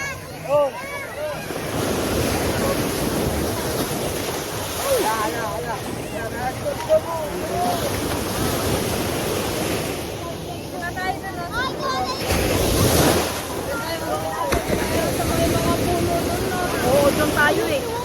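Ocean surf rolls onto Bagac Bay beach with heavy wind buffeting the microphone, waves surging and receding in a continuous wash while people talk casually during the walk along the shore.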